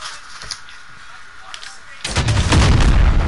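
Rocket launcher firing in Modern Warfare, a loud, booming blast that erupts partway through and rumbles on to the end, following quieter game noise with faint talk underneath.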